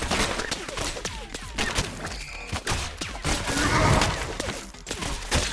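Gunfire from the video game ROUNDS comes as rapid, dense bursts of shots and impacts mixed with game effects, loud and busy, with players' voices faintly mixed in.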